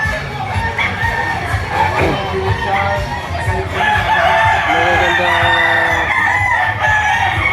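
Roosters crowing amid a busy poultry yard, with clucking and overlapping calls and someone speaking briefly nearby.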